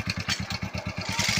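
A motorcycle engine runs a rigged pulley setup for lowering a bore pump motor, a steady, fast, close-up chugging pulse with light mechanical clatter.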